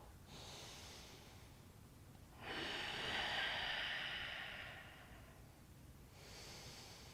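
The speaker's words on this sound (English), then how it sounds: "2 more breaths." Deep, slow breathing held through a yoga pose in a lower-body mobility workout: a soft breath at the start, a long, strong airy exhale in the middle and another breath at the end, close and fairly quiet with no talking.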